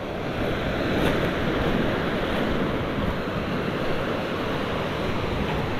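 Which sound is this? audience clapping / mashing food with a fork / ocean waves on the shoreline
ocean waves on the shoreline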